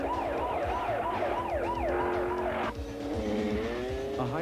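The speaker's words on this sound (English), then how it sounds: "Stuntman Benny Dobbins is driving the police car chasing Sylvester Stallone." A police car races in a high-speed chase stunt for an action film, its siren wailing in rapid cycles over roaring engine noise and tire squeal, then shifting to a sustained tone as the chase continues loud and close.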